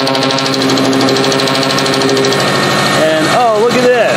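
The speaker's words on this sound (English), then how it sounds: "Yeah, that'll be an exhaust leak." A car engine with an exhaust leak idles with a steady rumble and a ticking, puffing pulse from the exhaust, loud and close, with brief whistling tones near the end.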